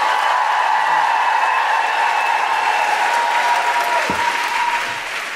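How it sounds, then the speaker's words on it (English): Loud, dense applause from a large audience, sustained and steady before tapering off slightly at the end. "Round of applause going."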